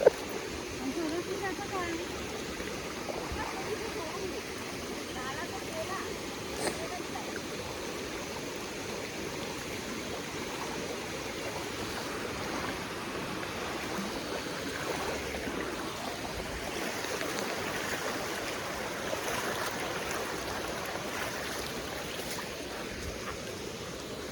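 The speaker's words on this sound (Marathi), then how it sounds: "नदी पार केली आता पाणी कमी आहे" A low river flows steadily during a crossing, a continuous rushing, burbling wash heard at moderate distance, with people talking and laughing over it at times.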